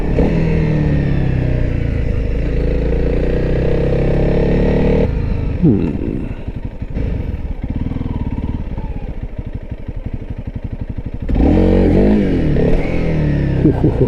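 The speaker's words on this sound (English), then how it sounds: "I'm gonna try and get at least a couple of wheelie attempts in." A Honda CRF300L motorcycle fitted with a 14/45 sprocket revs hard in loud, close bursts during wheelie attempts, dropping to a rough idle between pulls before accelerating again.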